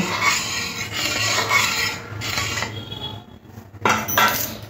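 Soy sauce and vinegar being stirred into chicken soup in a metal pot, a steady scraping and clinking of a utensil against the pot with brief pauses, close and alone.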